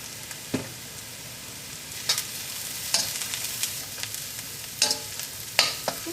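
Ginger garlic paste and onion frying in oil for a Kerala egg roast curry, a steady soft sizzle with intermittent scraping stir strokes.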